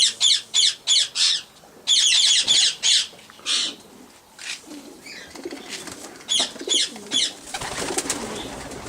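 Racing pigeons in a loft giving a rapid series of loud, close squawks and coos in short bursts, with quieter fluttering calls and rustling between them.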